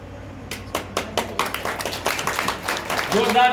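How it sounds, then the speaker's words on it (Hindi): Audience applause at an inauguration ceremony for a poets' gathering and book launch in Jaynagar, Madhubani, with scattered claps building into steady clapping under overlapping speech. "जोरदार तालियां आज के इस उद्घाटन"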